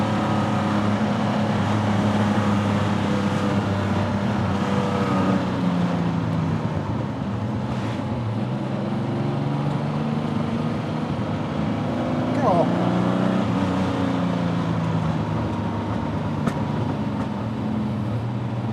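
A TVR T350C sports car on a test drive gives a steady, droning engine and road rumble from inside the cabin, holding near-constant loudness, with people talking over it.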